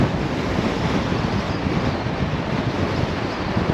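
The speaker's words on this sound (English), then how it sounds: "A bit windy out here." Strong wind blows outdoors at Cabril Gorge in Portugal, a constant heavy rumbling roar buffeting the microphone, loud and unbroken with no voices.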